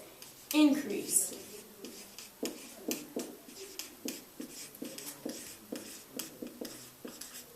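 A pen scratches handwritten notes across paper in short, close strokes and taps, soft but clear, with a quiet background.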